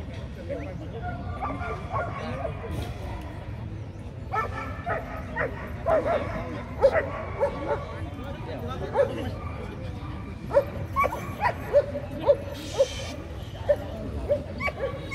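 German shepherd dogs at a dog show give repeated short barks and yips at irregular intervals, moderately near, while someone commentates in Vietnamese over the whole stretch.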